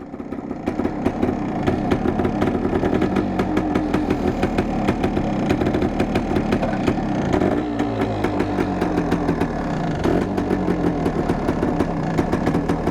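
A 1974 Yamaha DT250 motorcycle idles just after a cold start, its engine running steadily and close by with a rough, uneven rhythm and occasional small blips in revs, with no other sound around it.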